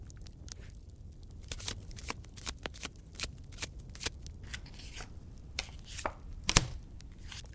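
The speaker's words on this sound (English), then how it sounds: "Give them a quick shuffle yourself, so you get your energies inside" Tarot cards shuffled by hand, a long run of quick riffling and slapping card sounds up close, busy and irregular, with no speech over them.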